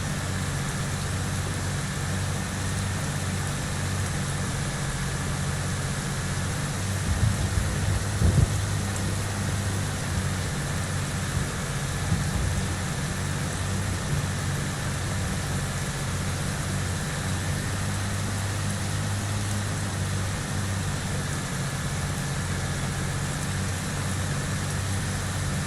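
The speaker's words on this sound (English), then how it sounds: "It is pouring rain on us." Steady, heavy rain pours down as a continuous broadband hiss on a farm, with a low engine rumble underneath and a few brief thumps; no talking.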